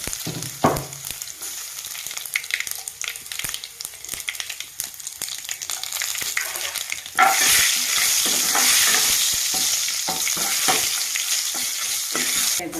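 Crushed garlic hits hot oil for lentil dal and breaks into a loud, steady sizzle partway through, after soft clinks and stirring in the pan.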